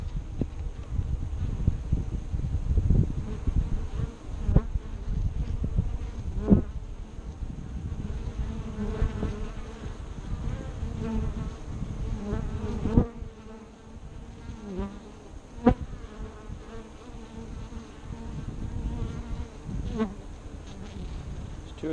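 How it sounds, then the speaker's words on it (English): Honeybees buzz steadily around a beehive in May, many insects droning close together with occasional louder passes and soft knocks, no voices. "There's a bee that just went in and had pollen."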